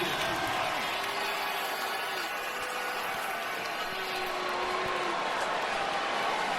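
A college football stadium crowd roars steadily after an Oklahoma Sooners touchdown against Kansas State, a broad sustained wash of cheering and applause with a commentator's voice faintly underneath.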